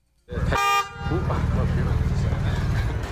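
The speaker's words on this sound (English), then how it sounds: "His software can even honk the horn of a police car." A single sharp police car horn toot blares up close, then gives way to a steady engine rumble and road noise.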